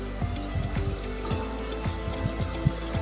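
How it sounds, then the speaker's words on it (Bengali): Chopped onion, garlic and green chili fry in a pan with a steady, close sizzle. Small pops and crackles break through at irregular intervals. "পেঁয়াজ আর রসুনটা তো আমি ভালো করে ভেজে নেব।"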